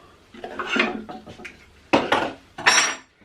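Fishing line being cut off a spinning reel: a few short, close clicks and scraping snips in separate bursts, with quiet pauses between them.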